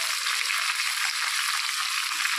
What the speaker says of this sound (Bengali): ওই তেলের মধ্যে আমি দুটো আলু কেটে নিয়েছি, আলুগুলোও ভেজে নেব একই তেলে।